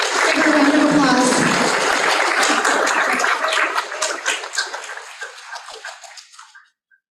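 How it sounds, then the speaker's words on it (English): A round of applause at a school board meeting, dense clapping from the room that holds steady, then thins into scattered claps and fades out, with voices mixed in at the start. "Give her a round of applause."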